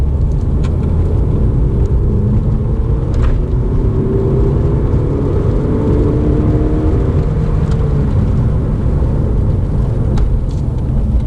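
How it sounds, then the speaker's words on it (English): A 120,000-mile VW Golf GTD diesel pulls hard from 30 to 70 mph, its engine droning loud and steady from inside the cabin with a rising tone and heavy low rumble. "I suppose we should probably start with the 30 to 70 sprint"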